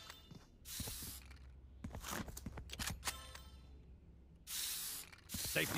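Several sharp hissing graffiti spray bursts in a video game come in separate blasts, mixed with clicks and light footsteps between them.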